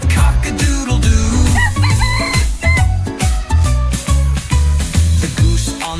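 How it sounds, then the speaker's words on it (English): A rooster crows cock-a-doodle-doo amid loud, rhythmic, bouncy music with a steady beat, the calls cutting through repeatedly over several seconds. "The rooster says cock-a-doodle-doo."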